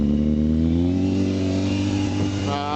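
A 2001 Yamaha YZF600R motorcycle engine runs steadily close by after a cold start, its harmonic drone holding level with a slight rise in pitch near the end and no talking over it.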